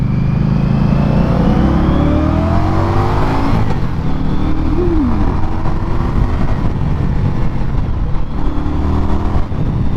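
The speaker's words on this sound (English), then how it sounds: "Just in that little acceleration alone, man, this bike is smooth" An Indian Scout Bobber motorcycle accelerates up close, with a loud, continuous engine drone that rises in pitch through the gears and has wind noise mixed in.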